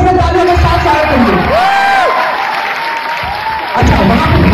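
A large crowd at a college event claps loudly and cheers, with whoops and shouts rising over the dense applause throughout.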